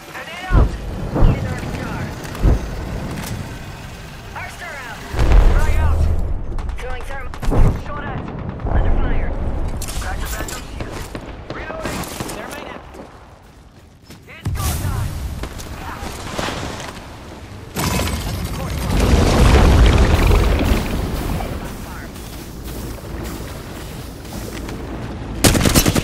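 Frag grenade blast and gunfire in the Apex Legends video game, heavy booms and bursts of rapid shots with loud impacts, dense and close, mixed with game voice callouts.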